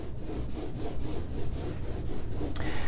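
Ink roller worked back and forth over an inked printmaking tool, giving a soft, velvety rolling rasp in steady repeated strokes, close and continuous without talk.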